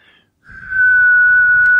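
A person whistles a single clear, sustained note, loud and close, rising in strength after a brief faint start and holding steady to the end.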